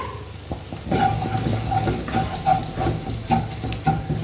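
Spice masala for chana masala roasting in a pan, a continuous close sizzle with a spoon stirring and tapping against the pan in uneven strokes, fairly loud throughout.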